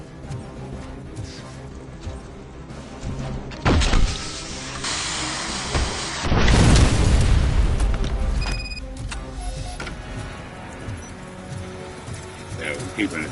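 Rocket launcher blasts in the game RoboCop: Rogue City: two heavy booming explosions, a sharp one near four seconds and a longer rumbling blast around six to seven seconds, set over steady game ambience and music.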